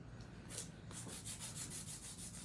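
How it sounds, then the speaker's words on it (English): A nail file rubbing rapidly back and forth across an acrylic nail, a close, rhythmic scratchy rasp repeating steadily. "using a whole file like this gives me the ability to get the whole nail."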